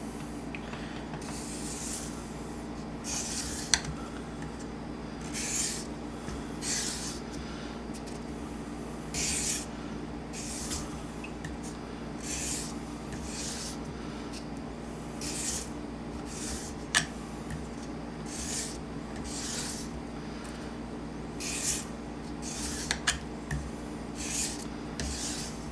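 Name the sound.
knife blade stroked on sharpening surface, convex edge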